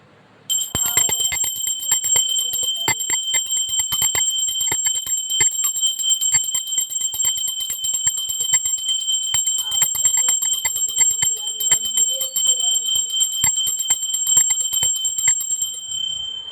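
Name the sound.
hand bell rung during Radha Krishna worship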